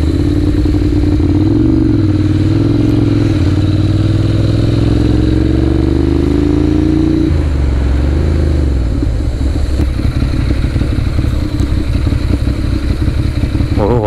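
A Ducati Monster 795 motorcycle ridden on a small village road in Bali, its engine droning loud and close with rising and falling revs, a steady pitch climb then a drop and rougher, wind-buffeted running.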